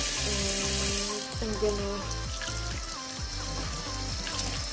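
Tap water runs into a kitchen sink while silverside beef is rinsed under cold filtered water, a close steady splashing with irregular clatters and sloshes, and someone briefly speaks over it.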